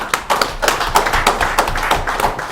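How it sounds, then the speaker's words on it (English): An audience at a Nigerian telecom regulator's event claps. The applause is loud, close and fairly uneven, with dense overlapping claps running for a couple of seconds. "I think that deserves a clap."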